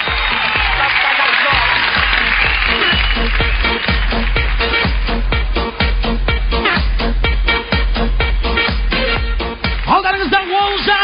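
An audience at a theatre comedy show applauds, a loud, sustained burst of crowd clapping with claps densely overlapping, while a host's voice is heard over it.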